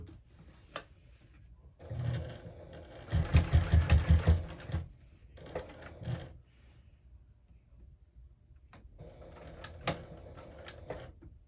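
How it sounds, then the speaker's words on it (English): A sewing machine runs a couple of lines of stitches across a fabric hobo bag. Short bursts of quick, rattling stitching come close by, with one longer steady run in the middle and quiet pauses between them. "I'll just go ahead and sew a couple line of stitches"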